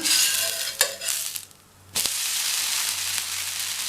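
Dosa frying on a new iron dosa pan gives a steady, close sizzle that breaks off briefly in the middle as the dosa is flipped, then comes back at full strength.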